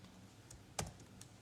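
A few quiet, isolated keystrokes on a computer keyboard, with one sharper click in the middle, soft and close over a faint background hum.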